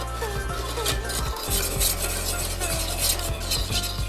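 A thickening mixture is stirred continuously in a pan, making repeated close scraping, rasping strokes in a steady rhythm against the pan's base.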